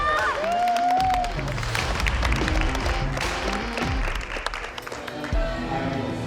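Applause and crowd noise at a bodybuilding competition in the Welsh Valleys, with a woman cheering on her husband, steady clapping under a blended mix of voices and music throughout.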